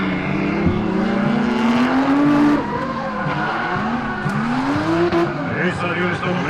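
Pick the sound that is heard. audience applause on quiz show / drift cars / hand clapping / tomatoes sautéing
drift cars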